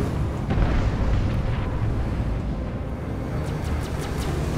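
Missiles launch from a Gladius fighter in Star Citizen and explode, a loud sustained roaring rumble that fades slightly, with faint crackling bursts near the end.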